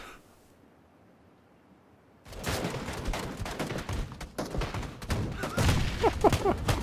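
Gunfire in the video game Battlegrounds, near silence at first, then a sudden run of rapid shots with a few sharper bursts, loud and close over faint game background.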